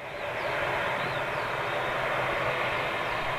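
A large airliner's jet engines, GEnx or Rolls-Royce, roar in a steady, broad rushing drone heard from a distance outdoors at an airport, continuous with no voices.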